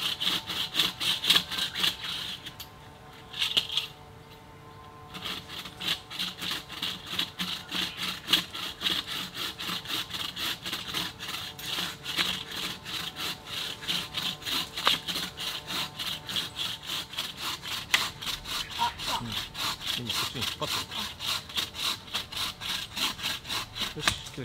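A hand saw cutting crosswise through dead wood outdoors, with fast steady back-and-forth rasping strokes close by, briefly pausing once before continuing.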